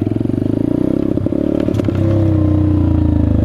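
Chinese Peace Moto dirt bike engine revving hard through a wheelie, a loud steady close-up drone with a brief rattling clatter midway, then the engine note rising and holding high and smooth to the end.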